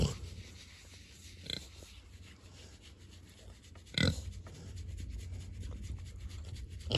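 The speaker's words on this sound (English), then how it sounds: "That is the cutest pig." A boar and a sow grunt softly outdoors, with low snorts near 1.5 and 4 seconds over a steady faint background hiss and rustle.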